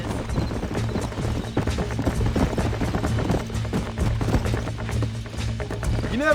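Hooves clatter steadily as horses gallop in Red Dead Redemption, a continuous rapid drumming of hoofbeats over a low rumble with no voices.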